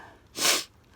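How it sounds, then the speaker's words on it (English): A single nasal sniff from someone with a cold or sinus infection, a short, close, breathy intake lasting about a third of a second in a quiet room. "hopefully you guys can ignore my sniffling."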